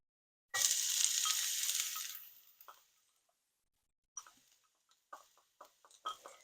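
Onions dropped into a hot oiled pan for kare pan burst into a loud, bright sizzle that fades over about two seconds, followed by scattered quiet taps and scrapes of a spatula.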